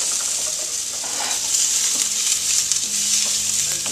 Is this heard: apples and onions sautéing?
yes